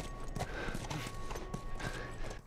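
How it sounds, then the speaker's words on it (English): Horse hooves clip-clop in a steady walking rhythm on a ranch in The Last of Us Remastered, with light game ambience behind them. "So Ellie's still following us in on the horse"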